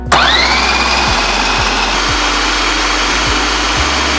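A food processor whirs loudly and continuously, blending hummus as ice water is added, with a high motor whine that spins up at the start and a few thumping pulses underneath, close and steady.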